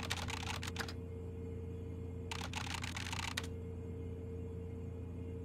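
Rapid keyboard typing in the video game ICEY, two quick bursts of clattering keystrokes separated by a pause, close and fairly loud over a steady low hum.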